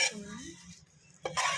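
A metal spoon clinks against a pot as fried tempering is tipped into beetroot pickle and stirred: a few sharp, close scrapes and taps, a short quiet gap, then another bright burst of utensil noise.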